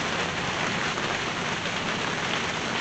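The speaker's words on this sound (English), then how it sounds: "And it's starting to rain." Steady rain pours down just outside a sheltered spot where a transfer case is being worked on, a dense, even hiss of drops that stays close and constant with no voices.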